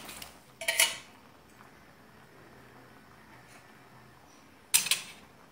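Fried vegetables go into a pot of vegetable khichuri with two brief bursts of clattering metal, separated by a long quiet stretch.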